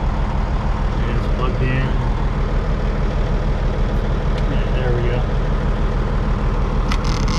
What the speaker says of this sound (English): I got the truck up and running right now.